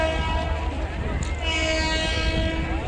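A Nepali train sounds its horn in a loud, sustained, steady blast that lasts the whole moment, layered over the low rumble of the moving train and faint crowd noise.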